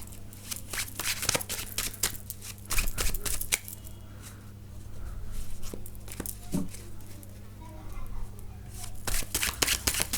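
Tarot cards are shuffled close up in repeated bursts of crisp riffling and flicking, with short pauses between handfuls, and no talk over the shuffling.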